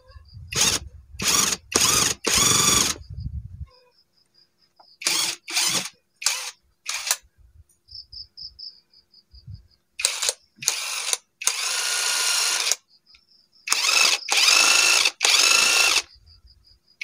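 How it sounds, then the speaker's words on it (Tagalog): A power drill bores a bolt hole for a homemade metal detector build, in short loud bursts of whirring separated by silent pauses, with a longer steady run near the end. "So ito butasan po natin ng para sa bolt"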